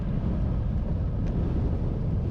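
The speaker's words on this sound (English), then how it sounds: "But as mentioned, it's super windy." Heavy wind buffets the microphone, a constant low roaring rumble that fills the clip with no voices.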